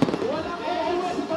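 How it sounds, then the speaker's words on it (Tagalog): New Year fireworks light up the sky over Metro Manila, a burst at the start followed by a dense, continuous crackle and rumble of distant explosions. "Matapos ilang minutong inilawan ng makukulay na fireworks display ang kalangitan"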